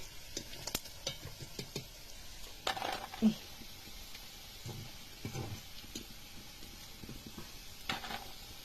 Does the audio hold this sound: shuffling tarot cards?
no